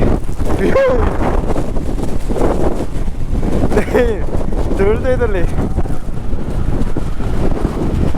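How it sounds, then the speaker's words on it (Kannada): Strong wind buffets the microphone with a constant roar throughout, while people talk beneath the gusts, on a monsoon motorcycle trip in Chikmagalur. "ಗಾಳಿ ಜೋರಾಗಿರೋದಕ್ಕೆ"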